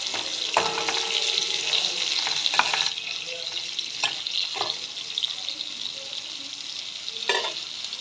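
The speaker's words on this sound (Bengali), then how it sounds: "কপিগুলো ভেজে নেব" Cauliflower pieces frying in oil in a pan while cooking mixed vegetables, a soft continuous sizzle broken by occasional stirring scrapes and clinks, close and fairly quiet.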